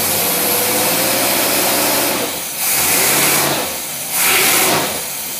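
An engine fitted with a Rochester dual jet carburetor runs loaded on a dynamometer, a loud, continuous roar that rises and falls in a few waves as revs and load change, with no talking.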